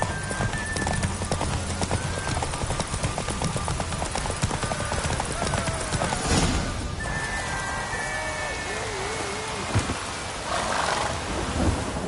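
Rapid hoofbeats of a horse racing in The Witcher 3: Wild Hunt gallop steadily over a rumbling backdrop, with a voice calling out now and then.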